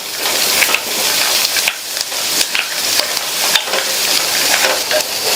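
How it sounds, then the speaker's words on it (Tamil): Carrots and onions sautéing in oil for a chutney, with a loud, continuous close sizzle broken by repeated scraping stir strokes. "இந்த கேரட் இந்த எண்ணெயிலேயே வதங்கி லைட்டா அதனுடைய கலர் வந்து சேஞ்ச் ஆகி வரட்டும்."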